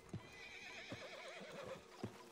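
Horse in Red Dead Redemption 2 gives a clear, wavering whinny while a few hoof clomps thud at irregular intervals, close and alone without talk.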